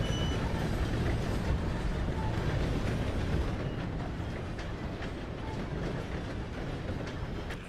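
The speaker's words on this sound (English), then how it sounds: "Gotta beat that train, Morgan." A train rolls past steadily in the Western video game Red Dead Redemption 2, a continuous rumbling with faint clattering that eases slightly toward the end.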